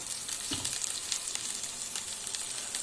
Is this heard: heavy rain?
no